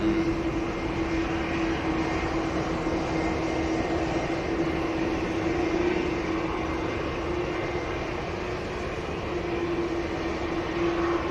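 An Atlas Air Boeing 747 at Manchester Airport produces a steady, distant jet engine roar with a constant droning hum, unbroken and alone throughout.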